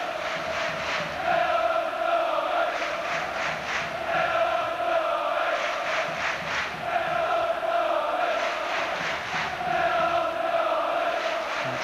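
A football crowd at Chelsea's stadium in an FA Cup tie against Newcastle chants in loud rhythmic waves, the massed voices swelling and repeating in regular pulses throughout.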